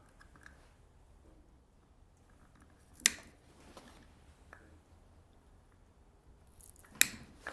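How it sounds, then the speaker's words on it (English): A round wooden toothpick pushed into a drilled hole in a handmade farmer yo-yo is snipped off, giving two sharp, quiet clicks a few seconds apart over near silence. "I push it in that hole we drilled, and I'll just take and snip it off."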